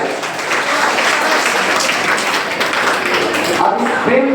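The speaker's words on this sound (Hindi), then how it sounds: "समर्पण हाउस के लिए फिर से एक बार जोरदार तालियां हो जाते हैं।" A school audience claps loudly for a house team at a quiz competition, a close, energetic burst of many hands that holds steady and then thins out near the end.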